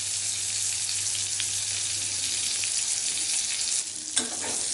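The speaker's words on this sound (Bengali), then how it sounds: "চিংড়ি মাছগুলো ভেজে নিচ্ছি।" Prawns fry in a pan, giving a steady close sizzle throughout with a brief stir or clink near the end and no talk.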